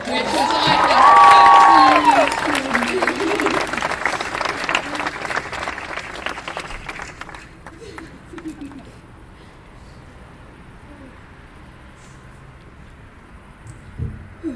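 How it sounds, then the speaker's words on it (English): A burst of clapping and cheering from a crowd at a school commencement ceremony, loudest in the first few seconds and then fading to a quieter murmur with scattered sounds. "Special round of applause for the movie that you did."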